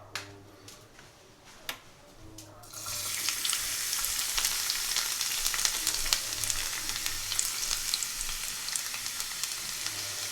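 Garlic and dry whole red chilies sizzle steadily in hot oil for a tarka on moong dal, a loud continuous frying hiss that starts abruptly after a few faint clicks.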